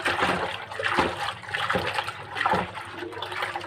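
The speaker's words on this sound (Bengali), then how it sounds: "মাছগুলো ভালোভাবে ধুয়ে নেই, তারপর তরকারি বসাবো।" Water splashes and trickles over small tengra fish being rinsed by hand in a kitchen, a steady sloshing wash with soft splatters, close and moderately loud, no talking.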